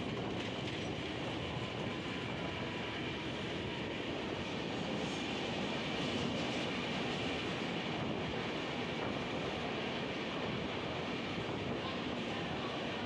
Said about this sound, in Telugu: మనకి ముంబై లోకల్తో ప్యారలల్ రన్ అవుతుంది, చూద్దాం ఎవరు ఫాస్ట్కి వెళ్తారు.